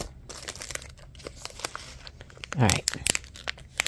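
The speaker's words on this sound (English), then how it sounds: "I'm just gonna cut the package all the way open without trying to destroy it." A plastic crochet-supply package is cut open, giving a short, loud crinkling and tearing burst amid softer rustling, with a person speaking briefly nearby.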